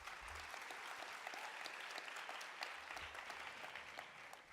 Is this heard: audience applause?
yes